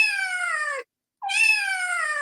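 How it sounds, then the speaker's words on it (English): Two cat meows used as a sound effect, each drawn-out and bright, separated by a short gap of silence, loud and close. "Hit him with the old double meow"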